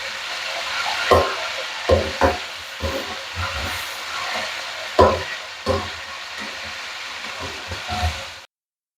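Bone-in chicken frying in a pan over full flame, a steady loud sizzle and hiss broken by repeated scraping stirs, before it cuts off abruptly at the end.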